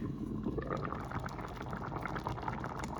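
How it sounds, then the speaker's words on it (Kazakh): A pot boils hard and steadily, a dense continuous bubbling and gurgling close by, with no voices. "енді менде үлкен отта қайнайын деп тұр"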